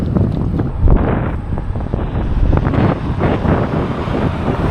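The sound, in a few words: strong afternoon wind while cycling on a prairie highway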